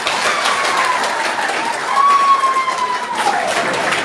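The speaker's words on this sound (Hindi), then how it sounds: "जोरदार ताली सबके लिए।" Crowd applause at a political rally stage event, a steady mass of clapping with some cheering, moderately loud, while a whistle-like rising and falling tone cuts through partway.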